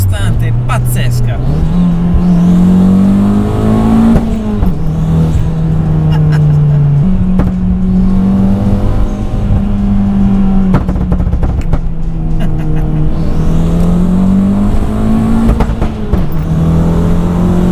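A tuned 305 hp Fiat 500 Abarth accelerates hard, its engine rising and falling through repeated revving pulls as gears change, loud and close from inside the car, with a voice talking over it.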